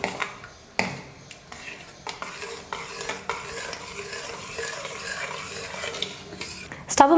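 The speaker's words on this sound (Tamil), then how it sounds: "எல்லாத்தையும் சேர்த்து நல்லா கலந்து விட்டுக்கலாம்." A spoon stirs jaggery and cardamom powder into payasam in a pan on the stove, making scraping clinks and soft swishing with faint sizzle, close and alone, ending in a louder clatter.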